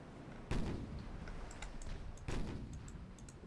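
Naval guns firing in the warship battle game Ultimate Admiral Dreadnoughts, two heavy booming salvos a couple of seconds apart over a rumbling background, fairly faint overall, with small crackles between.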